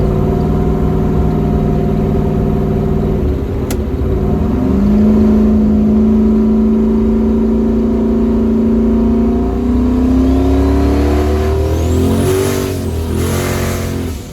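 A turbocharged 4.8-litre Foxbody Mustang running on E85 cruises along, its engine droning steadily near and loud, then revving up and shifting through gears toward the end.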